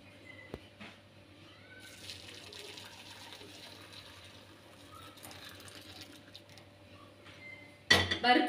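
Quiet trickling of sugar syrup strained into a pot, with faint clinks of metal and a brief louder clatter at the end.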